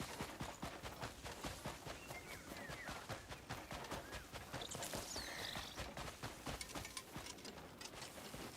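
Horse hooves clip-clop steadily in a video game world, a quick continuous rhythm of close footfalls running through the whole stretch over a busy, dense background.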